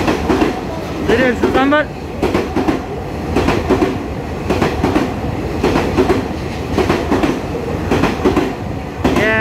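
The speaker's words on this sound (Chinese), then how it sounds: "板桥发车经由北回线开往花莲的，用3000型12连门组3006皮蛋豆腐吞云号哦" An EMU3000 twelve-car express train runs through Ruifang station in Taiwan, producing a loud, close rolling clatter with rhythmic wheel clicks. A brief squeal rings out over the steady noise, and someone speaks throughout.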